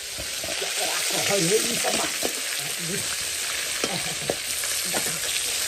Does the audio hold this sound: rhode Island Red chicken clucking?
no